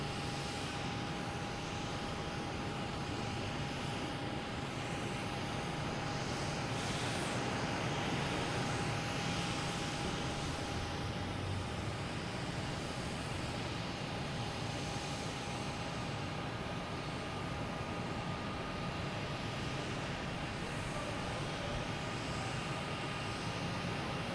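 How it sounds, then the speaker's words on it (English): An airplane with its landing gear down drifts over Boston Logan Airport, a steady broad engine roar that holds at a constant level for the whole stretch, with a faint high tone running through it and no one speaking. "Plane just keeps drifting over."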